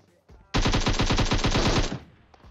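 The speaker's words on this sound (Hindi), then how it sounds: "बंदा फाइट लेना चाहता है गोलियां चला रहा है" Rapid automatic gunfire from PUBG Mobile rattles out in a loud, steady burst of about fifteen shots lasting over a second, followed by a few faint distant pops.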